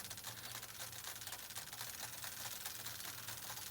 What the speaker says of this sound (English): you can hear it clicking as you're pedaling.